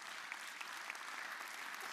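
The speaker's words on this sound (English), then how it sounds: "Please give them a huge round of applause" A panel audience claps for the sponsors at a travel creator event, a dense, steady patter of many hands heard from a distance, fairly faint, with no voices over it.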